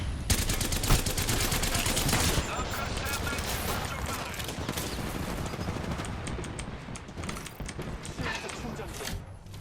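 Rapid bursts of automatic gunfire crackle in an Apex Legends match, loud and dense at first with sharp repeated shots, then continuing more sparsely amid game noise.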